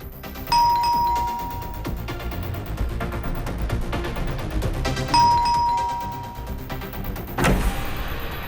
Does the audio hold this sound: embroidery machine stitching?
no